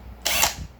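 A power drill briefly whirs as it drives a bolt while a 420 Predator clone engine is worked on, a single short, close burst with no talk.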